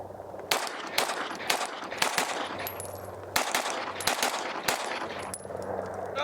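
Loud, sharp pistol shots from a Bul Armory Tac Pro 5-inch handgun with a ported barrel at a shooting range, fired in quick strings with brief gaps between bursts.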